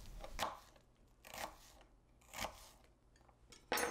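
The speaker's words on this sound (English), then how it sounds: "I usually like to give it a horizontal cut, then multiple vertical cuts," A knife dices a shallot on a cutting board, giving four spaced, crisp cutting strokes about a second apart, close and fairly quiet, with no talking.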